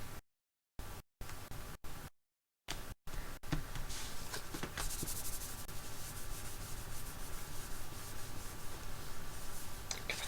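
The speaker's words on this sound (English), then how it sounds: "Give it a good rub." A hand rubs firmly over a paper craft piece, first in a few short separated strokes, then a steady continuous scratchy rubbing, close and quiet.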